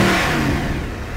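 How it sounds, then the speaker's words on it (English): The engine of a 2013 Mercedes-Benz SLS AMG GT revs loud and close, a rich sustained roar with no talking over it. "When you're downshifting, when you're accelerating, really anything you're doing in the car, it just has a beautiful soundtrack to accompany it."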